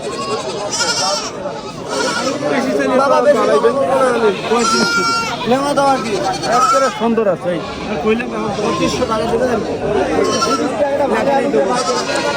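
Goats bleating at a crowded livestock market, with many overlapping calls close by and further off throughout. Buyers and sellers talk and haggle in a busy murmur over the animals.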